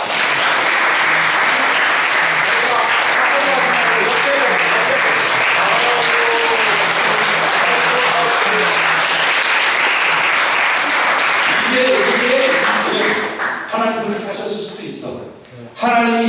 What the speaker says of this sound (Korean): 우리 다 같이 손뼉으로 환영하고 축복합시다